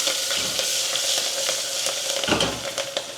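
Green chillies and ginger sizzle loudly in hot oil for pav shaak, heard as a dense, constant crackle and hiss with a few clatters from a stirring spoon and no talking.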